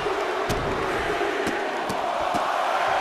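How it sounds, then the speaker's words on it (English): A wrestling crowd roars in WWE 2K24 during a Monday Night Raw match featuring LA Knight: a steady, dense wash of arena cheering runs the whole time, punctuated by a few sharp thuds. "The crowd rallying behind the Defiant One."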